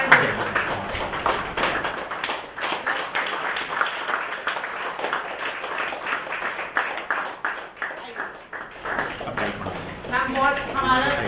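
Sustained clapping and applause from a gathered crowd welcoming Mangala Kapoor on a red carpet, with talk over it most of the time.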